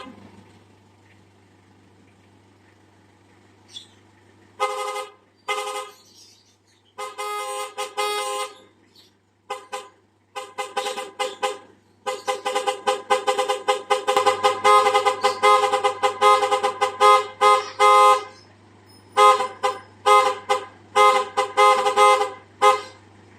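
Someone tests a musical car horn installed on a vehicle. Repeated short toots and melodic honking patterns come in rapid bursts over a low steady engine hum, with pauses between the sequences.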